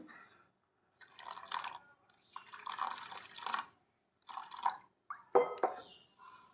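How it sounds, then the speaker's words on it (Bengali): Water is poured in several separate splashes into one and a half cups of semolina, each pour a close, bubbling gurgle lasting about a second, with brief silences between. "আর এর মধ্যে আমি জল দিয়ে দেবো, পরিমাণ মতন জল দিয়ে দেবো।"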